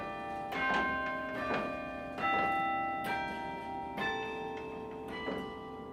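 Large low carillon bells struck from the foot pedals ring out one after another, about six slow strokes with long resonant overlapping hum, close and clear without talk.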